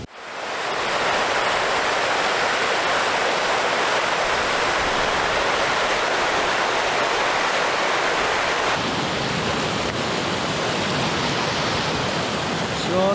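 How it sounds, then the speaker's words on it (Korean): Constant rushing water from a mountain stream in the Canadian Rockies on the Yoho Pass trail, a loud, dense, unbroken flow of churning noise close by. "시원한 계곡의 물소리를 들으면서 하이킹을 합니다"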